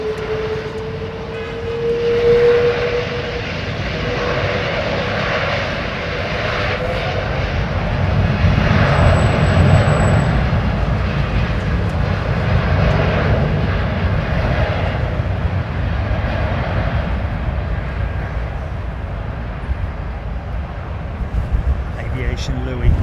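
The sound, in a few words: airliner taking off at London Heathrow Airport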